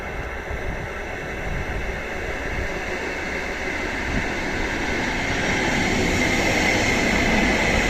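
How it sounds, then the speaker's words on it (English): A very old vintage Karlsruhe tram train rumbles along steadily on the rails, its broad, continuous roar building slightly louder over several seconds, heard from on board with no talking. "let's take a ride on a very old vintage tram train"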